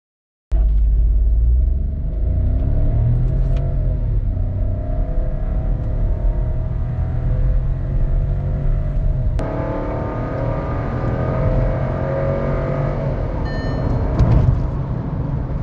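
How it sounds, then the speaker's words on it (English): Skoda Kushaq 1.0-litre three-cylinder EA211 engine running up close, a steady, loud low rumble with mild shifts in revs throughout and no talking. "this is a good sounding engine for its size as well as the 3-cylinder genetics"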